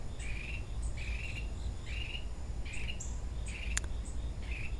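Birds in a garden on a Sunday morning give short repeated chirping calls at a regular pace, each burst lasting about half a second, over a constant hum of insects and crickets in the background.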